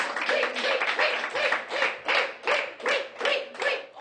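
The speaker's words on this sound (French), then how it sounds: "Applaudissez-le quand même." Studio audience on a French television news show clapping together in a steady rhythmic beat, about three claps per second, with a tonal backing underneath.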